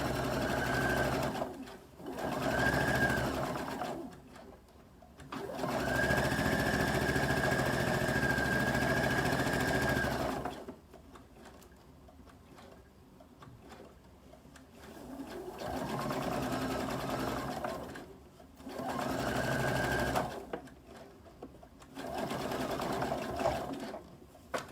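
Sewing machine stitching straight across the corner of a St. Patrick's Day table runner, running in several sustained bursts of steady whirring with short pauses between them, close and clear.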